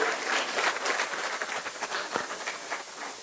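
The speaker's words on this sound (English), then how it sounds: "Big round of applause to the First Lady of Liberia." Audience applause for Liberia's First Lady, Mrs. Kartumu Y. Boakai, at a speaking event: a steady wash of hand claps with a hissy texture, moderately loud and continuous.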